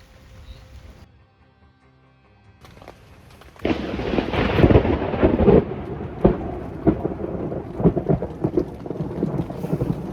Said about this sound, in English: Looks like the storm's here.